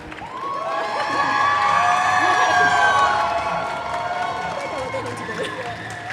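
An audience at a cosplay competition cheers, whoops and shouts in a sustained, loud swell that peaks and then slowly tapers, with voices mixed into the noise.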